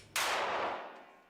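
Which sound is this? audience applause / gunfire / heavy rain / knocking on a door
gunfire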